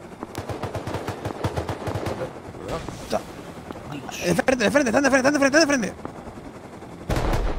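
Rapid bursts of automatic gunfire ring out in a nighttime video game match, loud and repeated, mixed with a rising whine and excited talking players.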